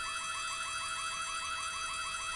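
A warbling electronic alarm siren wails steadily in the Korean horror video game White Day, rising and falling in rapid even cycles, loud and alone with no one talking.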